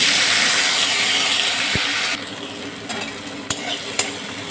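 Chopped tomato tipped into hot oil left from frying pomfret, already crackling with nigella seeds: a loud close sizzle that settles into a softer fry, punctuated by a few sharp clinks of a stirring spoon.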